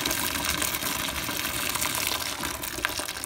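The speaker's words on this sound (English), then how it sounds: "I pour my boiling water over the top" Boiling water pours steadily from a kettle over greasy oven parts soaking in detergent, a continuous close rushing gush that holds level for a few seconds without any talk.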